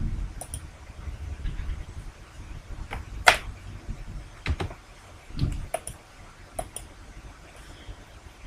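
Sparse mouse clicks at a computer while shapes are aligned in Microsoft Visio 2010, several sharp isolated clicks spaced irregularly over a low, quiet room hum.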